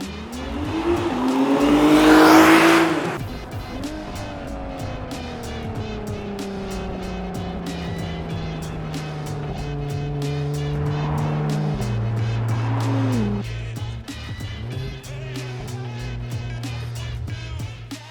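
A 2022 Acura NSX Type-S is driven at speed around Sonoma Raceway, its engine roaring loud and close through rising and falling revs with gear shifts, and no talk.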